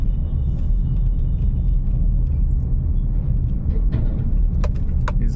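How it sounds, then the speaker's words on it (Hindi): Steady, heavy low rumble of a car on a highway at a toll plaza, constant road and engine noise throughout with a few faint clicks near the end. "देखो ये सामने गाड़ी आ रही है"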